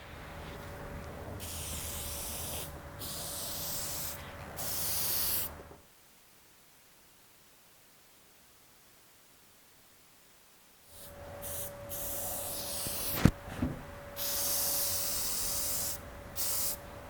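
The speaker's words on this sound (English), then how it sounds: "So I'm going to glue this foam down now" Spray adhesive hisses in bursts of steady spraying as a foam layer is glued onto a mattress spring unit in a mattress workshop, with a quiet pause between the bursts and a sharp knock near the end, with no talking.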